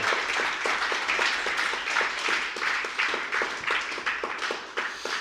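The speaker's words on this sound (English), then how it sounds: "keep that applause going" A crowd at a company all-hands meeting claps steadily for several seconds, a dense, even patter of many hands that fades slightly toward the end.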